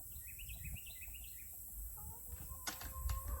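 Faint, soft clucking from chickens in a quiet setting, a few short calls in a row, with light knocks and rustling near the end.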